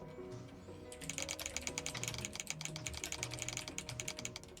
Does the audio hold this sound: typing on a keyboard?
yes